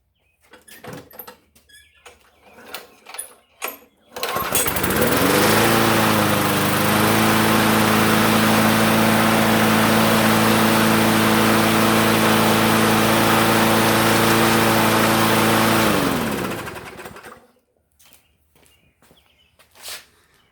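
A rebuilt 2006 Craftsman walk-behind lawn mower with a swapped engine starts after a few rustling and clanking sounds, then its small engine roars loudly and steadily for about twelve seconds before cutting off, followed by quieter handling noises.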